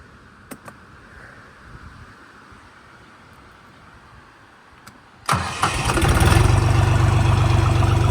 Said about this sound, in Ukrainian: зараз заведемо трактор, проїдемося